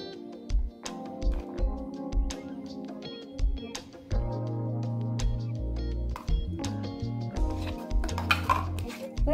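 Grated carrot stirred into a paniyaram batter in a bowl, with a spoon scraping and clinking against the sides in repeated close strokes alongside tonal background music.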